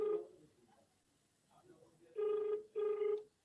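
Ringback tone of an outgoing telephone call, two clear repeated buzzing tones in the second half, preceded by a brief tone and faint background voices and movement.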